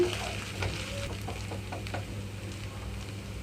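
Ginger garlic paste fries in a pan for egg fried rice, giving a steady low sizzle with occasional stirring scrapes throughout, fairly quiet and without talk.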